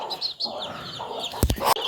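A hen clucks softly in short bursts nearby, followed by a few sharp rustling thumps toward the end.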